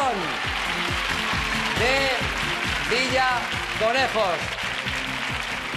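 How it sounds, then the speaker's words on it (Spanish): An ovation for the Villaconejos team at the 1996 Grand Prix del verano TV game show: steady crowd applause running throughout, partly masked by a loud announcer's voice and music. "Ahí lo tienen, la ovación"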